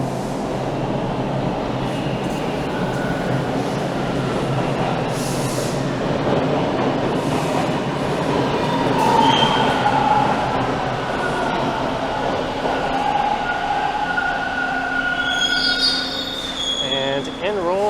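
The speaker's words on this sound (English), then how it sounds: "And in rolls a westbound Line 2 train." A westbound Line 2 subway train rolls into Dundas West Station in Toronto, a loud steady rumble of wheels and cars with rising squeals and screeches of the wheels as it slows along the platform.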